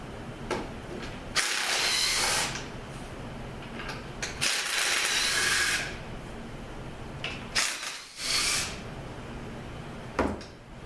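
A ratchet wrench backs bolts out in three long bursts of rapid clicking, each running a second or more, separated by short pauses with small knocks and tool handling, close and loud with no talk.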